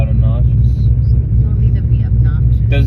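Chevrolet Corvette C6 fitted with resonators, its exhaust giving a deep, steady low rumble that holds throughout, heard from outside the car with people talking over it.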